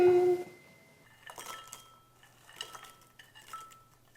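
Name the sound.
crispy bread croutons rattling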